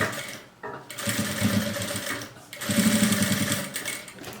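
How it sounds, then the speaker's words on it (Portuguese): Sewing machine running a straight finishing seam on a small padded fabric pouch, two close, loud whirring runs of rapid stitching separated by a brief pause, with a voice faintly present. "passa uma costura reta pra dar um acabamento"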